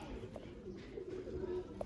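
Pure Sialkoti pigeons cooing softly at close range, low murmuring coos over a faint background hum, with a brief louder note near the end.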